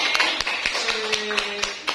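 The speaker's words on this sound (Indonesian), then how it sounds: "Tepuk tangan dulu kepada Bu Nora. Ayo semangat, tepuk tangan lagi." Applause for a teacher during a class session: quick, light tapping claps in a loose rhythm against a steady room background.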